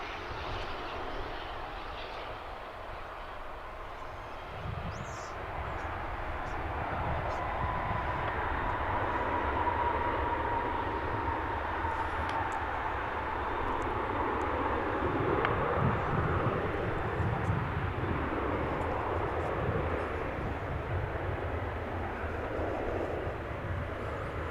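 A jet airplane taking off at DFW Airport, a broad steady engine roar heard from a distance, swelling gradually and holding loud through the middle before easing slightly.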